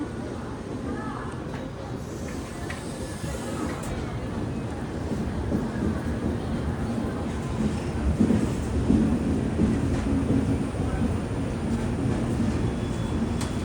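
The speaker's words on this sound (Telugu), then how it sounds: "ఫైనల్గా రాజమండ్రి నుంచి మన ట్రైన్ అయితే తీసేయడమాట మెల్లిగా." A train slowly pulls out of Rajahmundry station, heard from on board as a steady, loud, low rumble that swells a little over the stretch, with passengers' voices mixed in.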